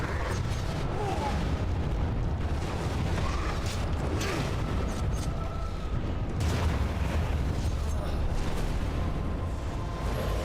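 Fire spell explosions in Dragon Age: Origins erupt in a dense, continuous roar of booming blasts and crackling bursts that layer over one another throughout, loud and close with no pause.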